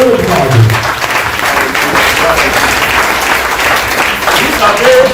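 A church congregation breaks into steady, loud applause, a dense clatter of many hands clapping that keeps going throughout, with a voice briefly audible at the start.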